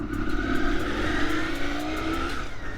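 A 1989 Honda VFR400R motorcycle rides around steadily, its engine holding a strong sustained tone that rises slightly in pitch and stays close and loud throughout, with no talking.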